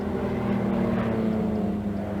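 A Trilander three-engined propeller airliner, an 18-seat aircraft, passes at the 1981 Farnborough Air Show, giving a loud, steady droning roar with constant propeller hum that fills the whole moment.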